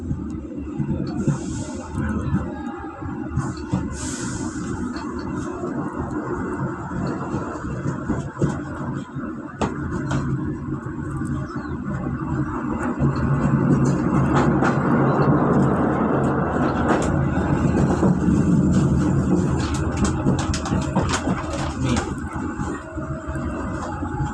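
An Indonesian passenger train runs steadily with a loud, continuous low rumble and rolling rail noise throughout, joined by a few faint higher clicks and squeaks.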